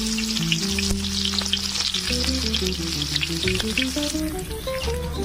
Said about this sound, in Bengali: কড়াই তেল দেওয়া হয়েছে, পেঁয়াজ দেওয়া হলো কড়াই